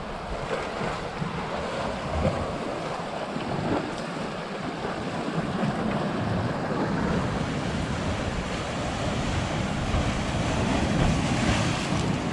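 Surf rolls and breaks without pause along the St. Croix shoreline by a beach bar in the US Virgin Islands, a near, steady roar of waves with gusty wind noise across the microphone.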